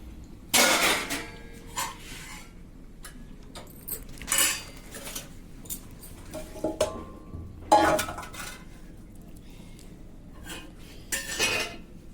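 Metal pots and dishes are washed by hand in a home kitchen, with sharp clattering knocks and clinks in irregular bursts over a low steady background, no speech.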